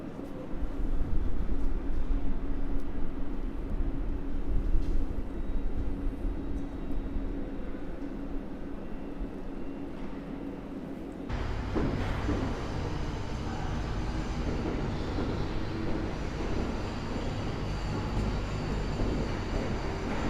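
A commuter train bound from Pilawa to Błonie rolls through the construction site at Warszawa Zachodnia station, a steady loud rumble that shifts to a heavier, deeper roar partway through, with no talk.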